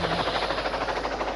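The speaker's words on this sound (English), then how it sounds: "Should we get back in the helicopter?" A helicopter's rotors give a steady, fast, loud chopping throb with no talk over it, heard on a sunny day in Warwickshire in 1985.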